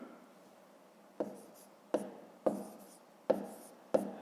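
Pen strokes writing numbers for a long-division exercise in a fifth-grade maths lesson, five crisp taps and scratches at a steady pace, close and fairly quiet over faint room hiss.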